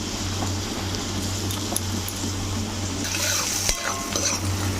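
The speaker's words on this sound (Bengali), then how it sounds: "পেঁয়াজটা ভালোই ভাজা হয়ে গেছে" Sliced onions frying in a pan for an egg curry give a soft, continuous sizzle, with a few scrapes and light clinks of a spatula stirring near the end.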